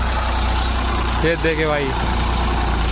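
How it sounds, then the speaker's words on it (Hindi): A tractor engine labours up a slope with a steady, loud mid-pitched rumble, while someone speaks briefly over it. "ट्रैक्टर चढ़ाते हैं यहाँ से, देखते क्या रिस्पॉन्स रहता है ट्रैक्टर का"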